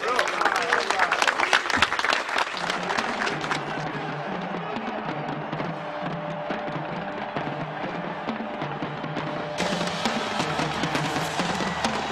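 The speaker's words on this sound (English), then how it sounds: "Give yourselves a round of applause." Stadium-style applause and crowd noise for the 1998 Minnesota Vikings football team, a steady, dense wash of clapping sustained throughout with some voices mixed in.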